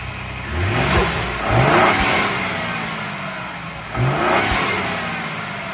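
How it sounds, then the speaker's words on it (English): A Ford F150 truck engine fitted with a Flashark cold air intake revs up twice, rising and falling with a whooshing, whistling turbo, loud and close over a steady idle. "You can hear the turbo whistling a little better and swooshing"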